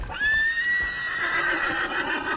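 A horse in a video game, Red Dead Redemption 2, whinnies loudly and clearly, a long, high, wavering neigh close up that holds for about two seconds.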